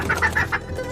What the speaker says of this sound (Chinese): 你看是浑身黑毛的那头公鸡会赢